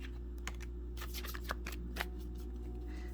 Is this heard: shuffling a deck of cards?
yes